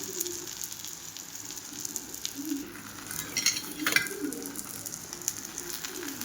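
Steady oily sizzling from a flatbread frying in oil on a griddle, with faint crackles and a few light scraping sounds over a low background hum.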